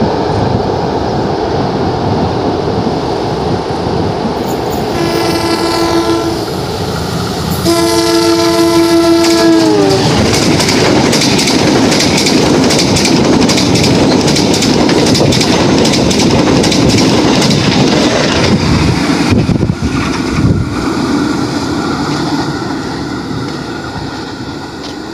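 Train passing at Semarang Tawang station, Central Java, sounding a loud multi-tone horn in two bursts, then a sustained roar of rolling wagons and clattering wheels close by that fades toward the end.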